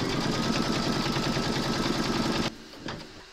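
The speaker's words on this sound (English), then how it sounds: "Pop your hoop into your machine and stitch round number three." Embroidery machine stitching fabric held in a hoop, a fast steady mechanical rattle of needle strokes running loud and continuous for about two and a half seconds, then stopping abruptly with a faint whir and click after.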